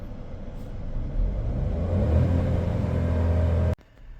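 A 2024 Kia Sonet HTX facelift turbo petrol with DCT revs in park, its engine rumble climbing steadily for a few seconds before cutting off abruptly, close and moderately loud.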